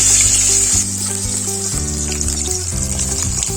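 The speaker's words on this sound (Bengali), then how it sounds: "মাছগুলো আমরা ভেজে নেব ভালোভাবে" Fish frying in mustard oil in a wok, a steady bright sizzle that carries on without a break, with low clatter from stirring or handling the pan underneath and no voices.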